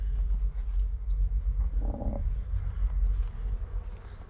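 Honeybees hum around open hive frames in a bee yard, a low, continuous outdoor drone with a brief louder buzz as one passes close, no voices.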